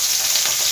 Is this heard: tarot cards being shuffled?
no